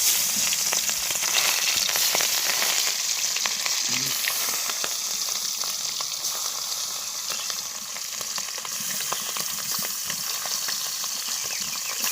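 Steady high-pitched sizzling of an egg frying in a pan, continuous and fairly close, with faint scraping now and then and no talking.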